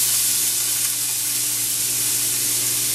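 Half a yellow onion fries in oil in a pan over medium heat, giving a steady, close, even sizzle with a continuous hiss and no talking.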